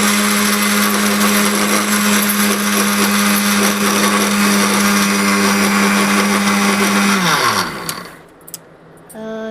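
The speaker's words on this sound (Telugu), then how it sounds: "మిక్సీలో వేయాలి. ఇప్పుడు మిక్సీ అయితే వేసుకోవాలి." Electric mixer grinder whirring loudly as it grinds crushed ingredients into powder, a steady close motor roar that winds down and stops near the end, followed by a few faint clicks.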